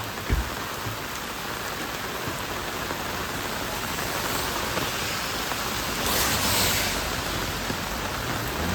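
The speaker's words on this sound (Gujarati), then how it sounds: "જોઈ લો વરસાદ ચાલુ થઈ ગયો" Heavy rain pours steadily near Dudhsagar waterfall in Goa, a dense, even hiss of drops falling on surfaces with no letup.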